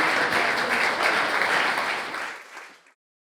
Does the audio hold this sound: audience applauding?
yes